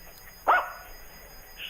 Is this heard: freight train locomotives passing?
no